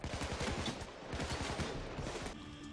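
Rapid bursts of automatic gunfire rattle in quick succession in Payday 2, loud and continuous with brief pauses between volleys.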